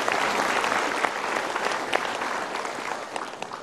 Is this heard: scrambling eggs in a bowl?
no